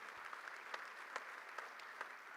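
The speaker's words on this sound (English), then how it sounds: "A round of applause and welcome" An audience applauds in a hall, a faint, steady patter of clapping with a few sharper claps standing out.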